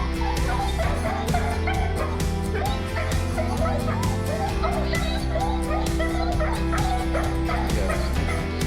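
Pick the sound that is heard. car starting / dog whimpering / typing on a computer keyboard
dog whimpering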